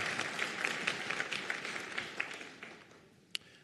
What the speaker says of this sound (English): Let's have a round of applause for all of our PhD, MSN graduates, and postmaster certificate recipients.